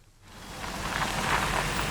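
Steady rain hisses, swelling from quiet to a constant dense patter over a low rumble, with no voices.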